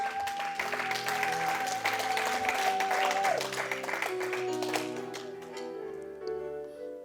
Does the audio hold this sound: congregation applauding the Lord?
yes